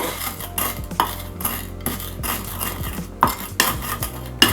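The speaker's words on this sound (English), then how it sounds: "I've just got a stainless bowl and a spoon, got some Maldon salt and some white pepper. Just going to crush it up into like a fine dust" Metal spoon grinding and clinking against a stainless steel bowl while crushing Maldon salt and white pepper, with repeated scraping strokes and sharp taps in an uneven rhythm, close and clear.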